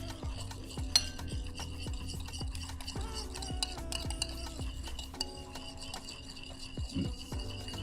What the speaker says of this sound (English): And then we're just going to give it a quick mix.